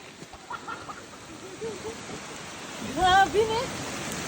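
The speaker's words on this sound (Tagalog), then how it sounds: "Lakas ng ulan, guys." Heavy rain falls on a mossy trail as a steady, broad hiss, while excited voices talk and call out over it.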